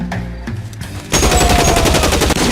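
Sustained bursts of gunfire ring out in the video game L.A. Noire, scattered shots giving way to a loud, dense volley of rapid automatic fire.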